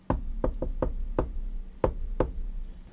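A door is knocked in a distinct rhythm: a quick run of raps, a pause, then two more, close and sharp, with no voices.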